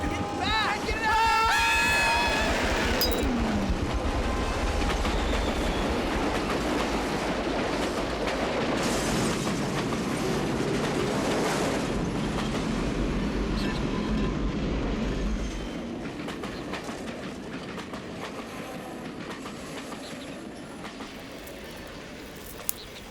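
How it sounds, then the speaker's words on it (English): A train rumbles past on the track with a heavy, steady roar and low rolling noise that fades somewhat after the midpoint, loud and close, with shouting voices mixed in. "The train's coming, man! It's coming, man! Look, it's close! Get off the track!"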